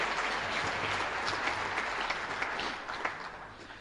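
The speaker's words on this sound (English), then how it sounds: "Let's give them a round of applause." An audience at a high school hall of fame banquet claps steadily, a dense wash of applause that holds for a few seconds and then tapers off toward the end.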